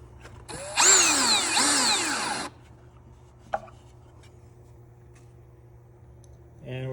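A power drill whines in one burst of about two seconds, its pitch rising and falling as it drives a 1 1/4 inch screw into a wooden Homestead side chair, followed by a quiet pause and a single faint click.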